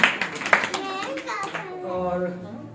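Brief clapping from a Christmas program audience in Prayagraj, a few quick claps at the start that fade as children's voices and speech take over.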